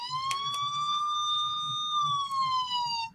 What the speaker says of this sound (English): y'all already know who that is. That's the siren. That's the police.